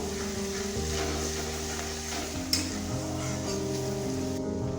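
Steady sizzling of spices frying in a pan, with soft stirring scrapes and a low hum underneath; one brief clack partway through.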